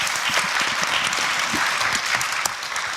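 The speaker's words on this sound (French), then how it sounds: "J'applaudis." Theatre audience applause fills the space, a dense, constant patter of many hands clapping at close range throughout the brief stretch.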